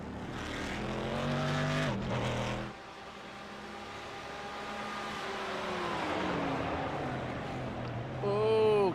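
GT1 and GT3 race cars roar around Texas Motor Speedway, engines rising and falling as they pass and shift, with a loud buildup near the end under live commentary.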